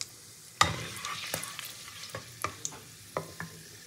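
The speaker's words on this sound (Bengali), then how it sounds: "তেলের মধ্যে প্রথমে আমি গোটা গরম মশলা ফোড়ন দেব" Whole garam masala spices hit hot oil with a sharp crackle, then fry on in a soft continuous sizzle broken by several light clicks and stirring taps.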